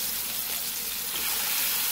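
Homemade hamburger patties sizzle in a pan, a steady hissing crackle held at an even level throughout with no pauses.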